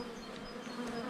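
Honey bees hum steadily around an open hive while a colony is split, a soft continuous buzz with no voices over it.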